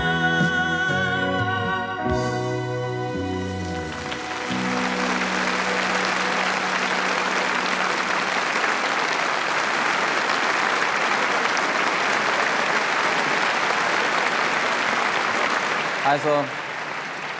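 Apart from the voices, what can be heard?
TV studio audience applause after a song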